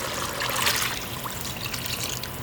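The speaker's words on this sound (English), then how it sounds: "so in goes water" Water pours steadily into a bubbling pot of dhal and dumpling soup cooking outdoors on a charcoal fire, a continuous splashing trickle, fairly close, with no talk.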